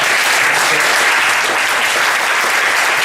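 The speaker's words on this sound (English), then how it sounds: "I think we need to give them a round of applause." Comedy club audience at the Edinburgh Fringe bursting into a steady, loud round of applause that fills the room for its whole length, with no talk over it.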